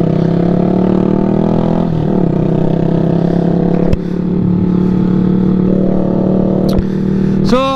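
A Yamaha R15 motorcycle with its exhaust missing idles and revs loudly up close, a harsh, raw engine drone with sharp rev blips and a clattery edge, no talk.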